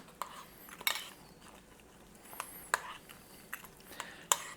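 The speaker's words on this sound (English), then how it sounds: "Now we're going to stir it up real good." A utensil scrapes and clinks against a container while stirring rehydrated freeze-dried stroganoff, a series of faint, irregular taps and scrapes close by.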